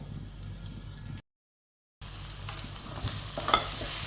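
Onions softening in a pot for mutton curry make a low, quiet sizzle, broken by a short gap of silence, followed by a few soft stirring clinks.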